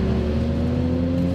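A car engine pulls hard after a gear downshift, a loud, close, steady mechanical drone with strong low harmonics holding throughout the short burst.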